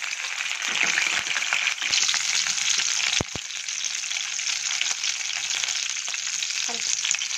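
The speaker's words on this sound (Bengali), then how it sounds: "রসুন আর কাঁচামরিচটা আগে একটু ফ্রাই করে নিই" Continuous hissing sizzle of garlic and green chilies frying in about two spoons of hot oil, with brief clicks of a spoon stirring the pan.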